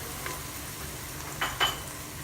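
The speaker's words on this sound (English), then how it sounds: "Let it sizzle well." Garlic sizzling in four tablespoons of hot oil in a broad pan, a faint steady crackle with two brief louder bursts of frying near the end, no talking.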